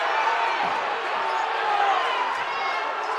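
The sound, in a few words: basketball crowd cheering at state championship game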